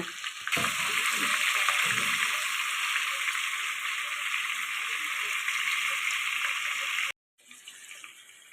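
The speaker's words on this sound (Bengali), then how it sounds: "এই রকম ব্রাউন কালার করে এপিট ওপিট করে আমি ভেজে নিচ্ছি সব কটা মাংস" Chicken pieces frying in oil in a pan, browned on both sides: a loud, steady broadband sizzle for about seven seconds, then a brief cut to silence and a fainter sizzle returning.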